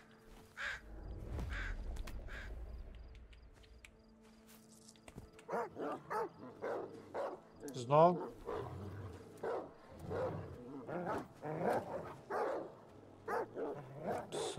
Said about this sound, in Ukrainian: Собаки невидимки.